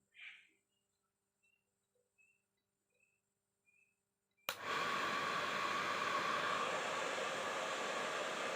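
A hair dryer switched to level 1 starts abruptly partway through and keeps up a loud, steady whooshing roar. A few faint chirps come before it in near silence.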